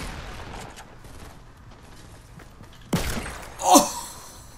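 A shotgun blast in the Fortnite Battle Royale video game, one sharp close report followed by a second louder crack with a short ringing tail, over low game ambience.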